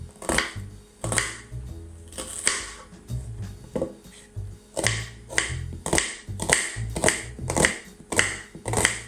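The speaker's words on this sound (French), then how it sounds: "Donc ensuite je viens émincer l'oignon." A knife chops an onion on a cutting board close by, with about a dozen crisp, sharp strikes in a fairly steady rhythm and short pauses between them. No one speaks.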